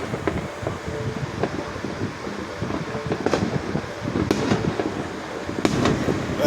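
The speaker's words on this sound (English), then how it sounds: "All these darn explosions." Fireworks pop and crackle around a residential neighborhood, a run of scattered bangs at varying distances over steady wind rumble, with a few sharper reports standing out and no talk.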